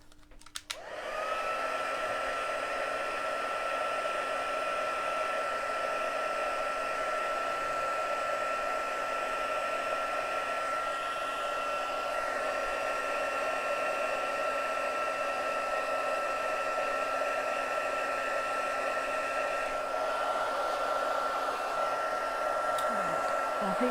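An embossing heat tool heating stamped paper for a craft project, a close and loud steady whirring hum that runs continuously after a brief click at the start.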